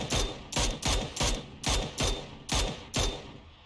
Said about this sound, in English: Shots out already.